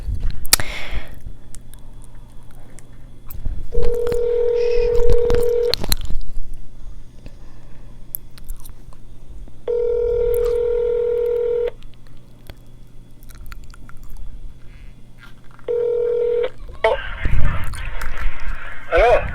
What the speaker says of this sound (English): So we're gonna call this one.